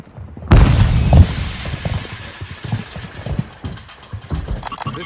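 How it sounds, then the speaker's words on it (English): A grenade explosion in Call of Duty DMZ, one loud close boom followed by scattered debris and rumbling game sounds that fade over several seconds. "Throwing grenade!"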